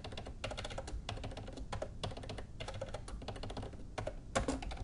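Rapid typing on a computer keyboard while entering a password, steady close clicking keystrokes with brief pauses, no talk.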